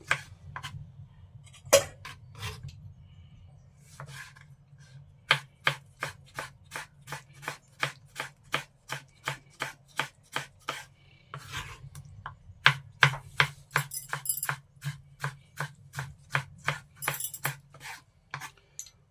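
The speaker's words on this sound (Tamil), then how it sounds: "தக்காளி வெட்டியாச்சு." A knife chops tomatoes on a cutting board in a steady run of crisp, closely spaced strikes, about two per second, loud and close with a low background hum and no talking.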